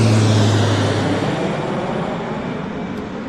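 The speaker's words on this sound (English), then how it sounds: "Here's the Medevac" A medevac jet bound for Mexico City at Vancouver International Airport, a loud, steady broadband engine roar that slowly fades over a few seconds, with no voices.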